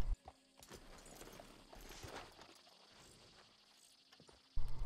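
Soft, distant clopping of horse hooves in Red Dead Redemption II, faint irregular steps over a quiet outdoor backdrop, with a brief snort or whinny.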